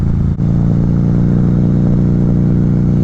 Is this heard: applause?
no